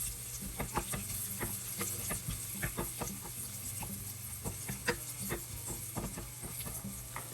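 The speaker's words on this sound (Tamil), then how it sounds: "நம்ம இந்த ஸ்பேஸில் கேஷ்யூ நட்ஸை லைட்டாக வறுத்து எடுத்துப்போம்" Cashew nuts lightly roasting in a pan for chicken pulao, a soft steady sizzle with scattered light taps and stirring clicks, close and quiet, with no talk.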